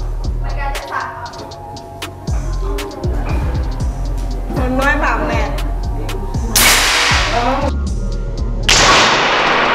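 An air rifle fires a test shot at an accuracy target, a sharp crack among other thumps and clatter while someone speaks nearby.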